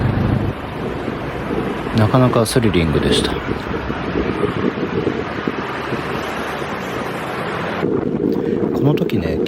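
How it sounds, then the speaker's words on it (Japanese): Wind rushes steadily past a motorbike taxi weaving through Bangkok traffic, a loud, continuous broadband roar with brief engine and street noises, while a voice speaks over it. "こうしてバイクで風を切っているととても気持ちが良かったです"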